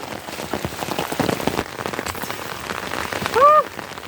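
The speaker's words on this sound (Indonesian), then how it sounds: "Hujan guys." Rain patters steadily onto a mountain hiking trail on Gunung Sumbing via the new Garung route, a close, even wash of drops with a brief high chirping tone near the end.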